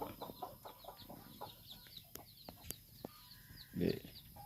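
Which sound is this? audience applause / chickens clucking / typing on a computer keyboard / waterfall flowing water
chickens clucking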